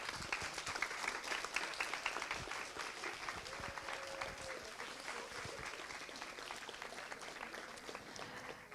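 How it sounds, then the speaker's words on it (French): Audience applause fills a hall after a talk at the Rencontres InfoCom conference in Toulouse, a steady wash of many hands clapping at moderate volume for several seconds, with a brief tonal voice or whistle partway through. "On peut les applaudir bien fort."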